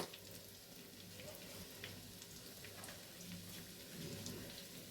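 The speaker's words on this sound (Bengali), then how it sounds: "দেখো ভাজাটা হচ্ছে" French toast fries in a pan with a steady, soft sizzle and crackle throughout, faint and continuous with no voices.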